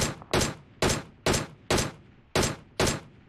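Gunfire in the mobile battle-royale game PUBG Mobile: seven sharp, loud shots in a fairly even rhythm about half a second apart, each with a short decaying tail, close and without voices.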